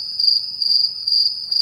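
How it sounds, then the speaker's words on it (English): Cricket chirping sound effect, a loud, close, high-pitched trill pulsing in quick repeated bursts over a quiet background, with no talking. "I want crickets up here for that part."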